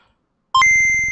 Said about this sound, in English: Calculating computer activated. Computers. Beeps. Boops.